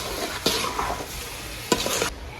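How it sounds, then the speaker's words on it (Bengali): Rice being stirred into fried spices in a pan for bhuna khichuri, with a low sizzle and two sharp scraping strokes of the spoon against the pan. "এখন চাল দিয়ে সবকিছুর সাথে ভালো করে মিশিয়ে নেব।"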